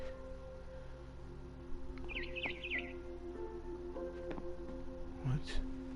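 A barn swallow chirping in the video game What Remains of Edith Finch, a short burst of quick high twittering notes heard faintly over a low steady background hum, with a brief second chirp later.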